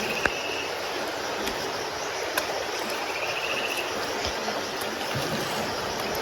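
A river rushes with a steady, broadband wash of flowing water that stays even throughout, while faint high insect or cricket chirps sit on top and no one speaks.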